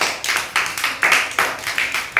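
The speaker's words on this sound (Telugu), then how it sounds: "Very good. క్లాప్స్ కొట్టండి." Children in an Anganwadi classroom clap in several uneven bursts of hand claps, fairly close and loud, with short pauses between the rounds.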